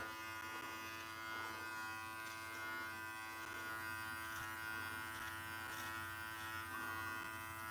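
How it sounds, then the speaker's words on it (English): A Brio Beardscape electric beard trimmer runs with a steady, even buzz throughout, faint but unbroken, with no voices. "the Brio beardscape, the trimmer I have right now is the best one on the market"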